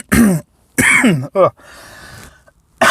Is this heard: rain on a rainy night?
no